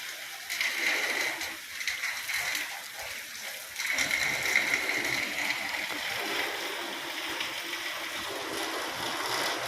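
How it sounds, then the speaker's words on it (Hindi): Heavy rain falls over waterlogged potato fields in Bengal, a dense, continuous hiss of downpour that stays steady and loud for the whole stretch. "देखिए दूर दूर तक बारिश, खूब बारिश हो रहा है।"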